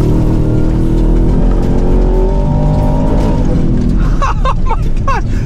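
A 700-horsepower Ford Raptor R pickup accelerates hard off-road, its engine droning loud and steady with rising tone, then rougher surging bursts near the end.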